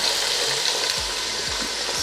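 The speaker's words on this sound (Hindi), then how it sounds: "अब इसमें प्याज डाल के फ्राई करेंगे।" Onions frying in ghee in a pressure cooker for beef korma, a dense close sizzle with a few low scraping stirs, steady throughout and free of speech.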